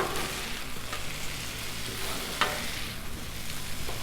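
Cheeseburger quesadilla filling of beef and melted cheese sizzles steadily on a Blackstone griddle, a close, continuous frying hiss with faint scraping.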